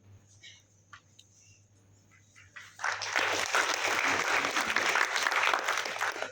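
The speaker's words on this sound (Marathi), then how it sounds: "एकदा जोरदार टाळ्या होती या भावजातांसाठी" Hand clapping at an honouring ceremony begins after a few seconds of quiet murmuring, then swells into loud, sustained applause from a large crowd that continues to the end.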